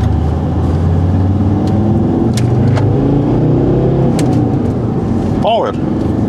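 A 2-litre diesel car engine hums steadily and builds as it accelerates, with speech over it and a brief rising whine near the end.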